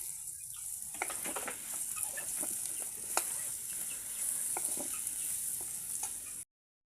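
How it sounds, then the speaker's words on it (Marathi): Dry spices sautéing in oil with tomato in a pan, a steady close sizzle with scattered stirring clicks and scrapes, alone, for a prawn and fish dish, ending abruptly in silence. "सर्व सुके मसाले टाकलेले आहेत मसाले पण चांगले तेलात परतून घ्यायचेत"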